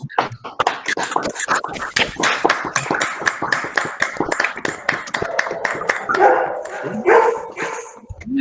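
A dog barks and yips in quick sharp bursts at close range, mixed with hands clapping at the end of an online meeting.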